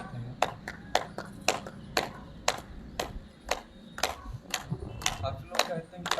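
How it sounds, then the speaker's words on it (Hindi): A group clapping hands in a rhythmic, steady pattern during a yoga session, with a dozen or so sharp claps spaced evenly over a soft background murmur. "फिर से ताली वादन करते हैं।"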